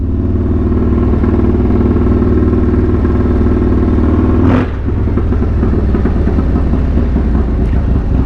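Motorcycle at the Sturgis Motorcycle Rally rumbling loud and close with a steady deep engine note, a brief throttle shift midway, then continuing to idle and run with some clatter.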